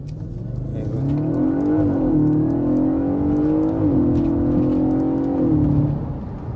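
Audi RS4 Avant B8 with its naturally aspirated 4.2 V8 drones steadily from inside the car, rising and falling in pitch with quick rev blips on downshifts, alone without talk.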